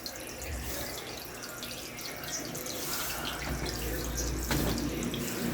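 Water runs from a tap into a concrete fish pond, a steady splashing flow at close range with a low trickling undertone that holds constant throughout.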